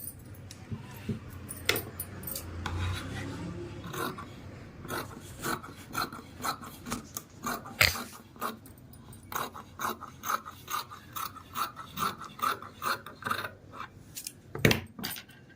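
Scissors snipping through the back piece of a blouse lining fabric during tailoring, a steady run of short crisp cuts with rustling cloth between them, close and fairly loud with no talking.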